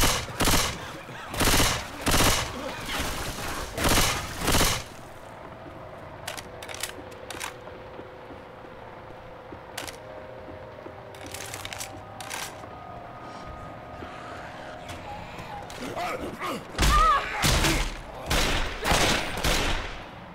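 Video game gunfire with repeated bursts of loud, close shots, a quieter stretch of scattered single reports in the middle, then heavy rapid firing again at the end.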